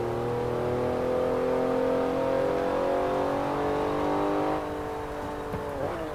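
A car engine in the racing game Forza holds a steady, loud rev with rising harmonic tones, then drops back and climbs again near the end, heard alone without talk.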